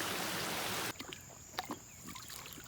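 A neighbor's small stream flows below, at first a dense, steady rush, then abruptly quieter, with scattered light splashes and trickles at mid distance.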